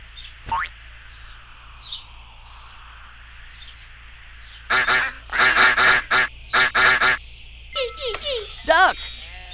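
A burst of several loud honking duck quacks in quick succession after quiet ambience, followed by a short electronic chime-like flourish, from a preschool animal-learning game.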